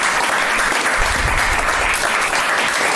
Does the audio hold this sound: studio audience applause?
yes